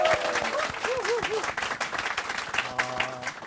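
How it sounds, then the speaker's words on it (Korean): A lecture audience in a hall claps warmly to welcome the speaker at the start of a talk on charm. Dense, steady applause continues throughout, with brief voices and tonal sounds mixed in. "큰 박수로 청해 드리겠습니다."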